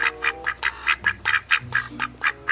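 A duck character in the Roblox game quacks repeatedly, about a dozen loud nasal quacks in a quick uneven rhythm, with a faint tonal game tune running underneath.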